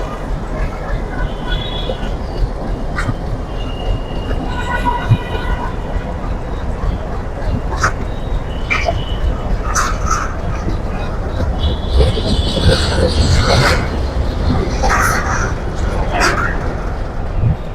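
A train pulling away from a station, a steady low rumble with clanks and squeals rising and falling, with voices talking over it.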